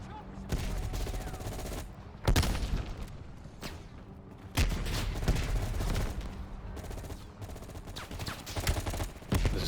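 M16 rifle fire in Call of Duty: Black Ops Cold War, repeated sharp bursts of loud shots with gaps between them, mixed with distant battle noise across the whole stretch.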